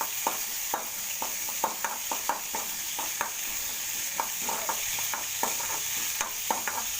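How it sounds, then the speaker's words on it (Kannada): Moong dal roasting in a pan with oil, a steady close sizzle with frequent rhythmic scrapes of a spoon stirring against the pan. "ಸ್ವಲ್ಪ ಹೆಸರುಬೇಳೆನ ರೋಸ್ಟ್ ಮಾಡ್ಕೊಳ್ಳೋಣ ಹಸಿ ವಾಸನೆ ಹೋಗೋವರೆಗೆ"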